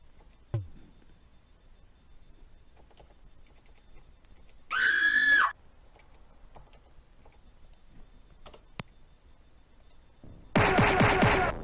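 Two short, high-pitched little screams from the Might and Magic video game, one around the middle and another near the end, each sharp and clear over a quiet background.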